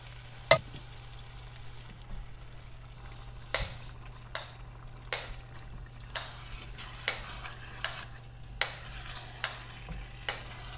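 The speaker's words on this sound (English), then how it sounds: "And now I'm going to add tomatoes and basil." Stirring in a hot cooking pan after tomatoes and basil go in, with a steady low sizzle under regular scraping strokes of a utensil, close up and without talk.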